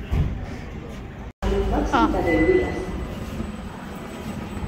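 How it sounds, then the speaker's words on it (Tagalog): A metro train in Catalonia rumbles close by with a steady roar and brief wheel screech, while people talk over the noise. "Kaya dito kami sasakay. Sa metro ng tren."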